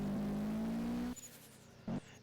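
A rally car in the Roblox WRC racing game drives with a steady engine drone for about a second, then cuts out abruptly, followed by near silence and one brief blip of engine noise.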